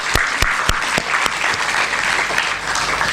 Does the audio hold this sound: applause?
yes